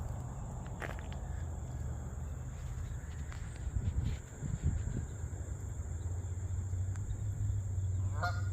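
Geese honking repeatedly at a distance over steady outdoor ambience at a pond, with a few louder calls and some footsteps on the ground midway.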